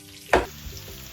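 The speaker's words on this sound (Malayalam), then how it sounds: "അപ്പോൾ നമ്മുടെ സവാളൊക്കെ ഒന്ന് ഫ്രൈ ആയിട്ട് വരട്ടെ കേട്ടോ." Onions fry in a pan with a brief sharp sizzle burst, then settle into a soft, steady hiss with faint stirring clatter.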